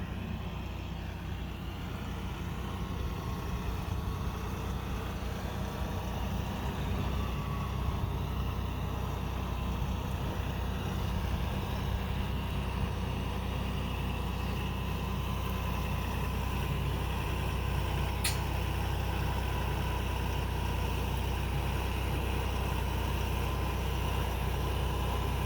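Kioti DK6010SE HST cab tractor engine running steadily, a constant low diesel drone with a faint high whine, unchanging and fairly near throughout, with no voices.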